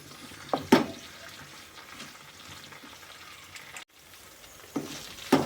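Green chillies and tamarind frying in a pan for an Andhra-style ridge gourd curd chutney, a soft steady sizzle with a few louder bursts and stirring clatters.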